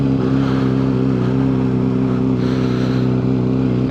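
A Honda CBR600RR motorcycle engine idles after a cold start, a loud, steady, close-up drone with a strong low hum and a small rise in revs partway through.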